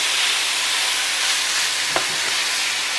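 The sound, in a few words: meat browning in a pan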